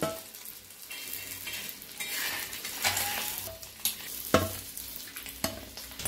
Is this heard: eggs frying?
yes